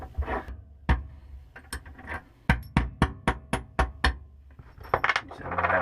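Metal tapping on a bolt during sailboat bulkhead and chain plate repair: a run of about ten crisp, evenly spaced light hammer taps, close by, preceded and followed by scattered clinks and handling noise.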